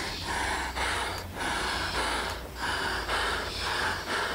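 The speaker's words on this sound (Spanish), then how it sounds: "la clásica persona que por alguna razón está sola en el bosque jadeando" Person alone in a forest panting heavily, rhythmic loud rasping breaths repeating about every half second to second, close and steady with no talk.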